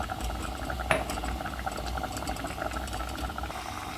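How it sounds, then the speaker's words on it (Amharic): A pot of liquid boils steadily on the stove during home cooking, a continuous dense bubbling and hissing at close range, with one sharp clink near the start. "ይኸው እየፈላ ላወጣው ነው። ይኸው ሲፈላ ይታያል።"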